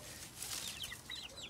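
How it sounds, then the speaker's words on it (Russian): Large chickens cluck softly in a home vegetable garden, a faint scatter of short clucks over quiet outdoor background. "Там тоже курицы."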